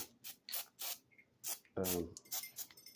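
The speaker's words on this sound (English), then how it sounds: "I just wanted to show you this quick little step with this spray adhesive." A can of spray adhesive hisses in several short bursts onto model tree foliage, close and crisp, with a brief voice between the sprays.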